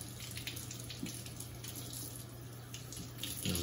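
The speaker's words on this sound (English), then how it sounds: "I'm just gonna rinse these with some tap water" Tap water runs steadily into a kitchen sink while small cleaned valve parts from a MIOPS Splash are rinsed, giving a continuous, even splashing hiss with slight changes in the flow.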